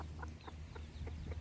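Chickens clucking close by in short, repeated soft calls, heard faintly against a low steady background hum, with no speech.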